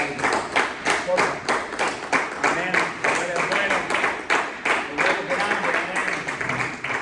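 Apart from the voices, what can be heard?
applause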